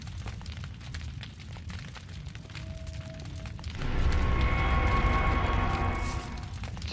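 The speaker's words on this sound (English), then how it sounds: "throw the grenade between him and the barrel. And that kills him instantly." A grenade blast in Resident Evil 4 arrives midway as a sudden deep, loud rumbling boom that swells and lingers, following quieter game ambience with a brief tone.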